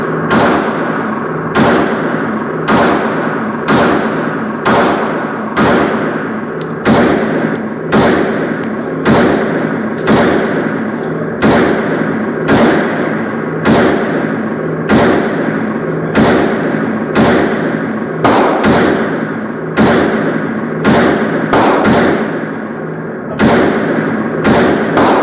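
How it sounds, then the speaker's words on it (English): KelTec PMR30 pistol, a .22 WMR handgun, fired shot after shot at an outdoor range, roughly twenty sharp loud reports in a steady, fairly quick rhythm, each with a ringing decay and no talking between them. "This results in dramatic large muzzle flash and sound as the powder continues to burn as the bullet leaves the barrel."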